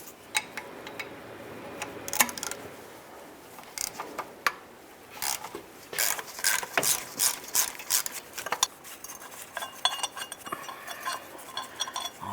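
A ratchet wrench loosens a starter bolt on a Dodge Journey, with irregular bursts of close clicking ratchet strokes and pauses between them, no talking.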